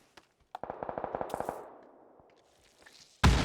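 Rapid burst of automatic gunfire in PUBG, about ten quick evenly spaced shots cracking loud and close, trailing into a fading echo, followed by a sudden loud noisy blast at the end.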